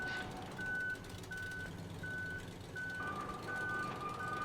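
A truck in the Human Fall Flat video game gives steady, evenly spaced reversing beeps that repeat for the whole stretch over a constant engine rumble, fairly close.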